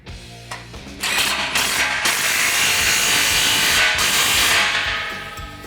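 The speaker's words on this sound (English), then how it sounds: "we can go ahead and tighten our clamp down." A ratchet tightens an exhaust clamp on a 2015-2017 Mustang GT Fastback Corsa Xtreme cat-back system, first a few clicks and then a long, loud, rapid mechanical whir close by, fading slightly at the end.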